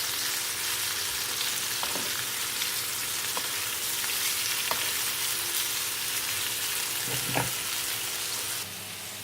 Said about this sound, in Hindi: तो उधर से हमारी फिश भी फ्राई हो रही है